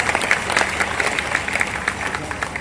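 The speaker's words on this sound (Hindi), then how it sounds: "तालियां बजा दीजिए एक बार।" An audience at a Hindi poetry gathering claps steadily for a few seconds, dense and continuous applause filling the room.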